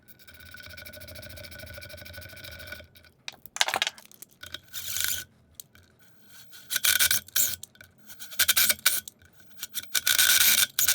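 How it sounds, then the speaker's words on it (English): Bolt holes on a new motorcycle brake rotor, for an Ironhead Sportster chopper build, being cleaned of old thread-lock: bursts of scraping and rasping tool noise follow a steady mechanical hum, in irregular stop-start strokes. "I'm just going to go back through, clean the holes before I put the new ones in on the new rotor."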